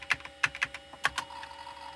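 Typing on the keyboard of an old Pentium 133 PC, about a dozen quiet, uneven key clicks in quick bursts, close up with a faint hum behind and no voice.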